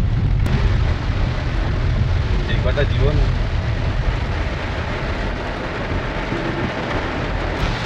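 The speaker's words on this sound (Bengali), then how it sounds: "এরকম ঝমঝম করে বৃষ্টি পড়ছে, আর এরকম ভাবে গাড়ি নিয়ে যাচ্ছি" Heavy monsoon rain pours steadily onto a car driving along a coastal marine drive right beside the sea near Shankarpur and Digha, a continuous loud wash of noise, with a person talking over it.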